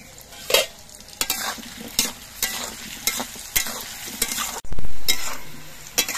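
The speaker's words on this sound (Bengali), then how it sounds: "আলুগুলো ভাজার সময় অল্প করে একটু নুন দিচ্ছি" Potatoes sizzle in mustard oil in a wok while a spatula scrapes and stirs in repeated sharp strokes, each clatter rising over a continuous close frying hiss.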